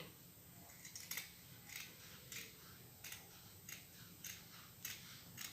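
Scissors cut fabric along the front neckline of a kaftan (senator top) in a series of about nine evenly spaced crisp snips, close and fairly quiet, with no talking.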